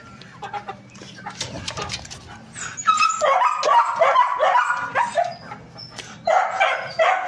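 A dog barks a few times nearby while chickens cluck busily in the background.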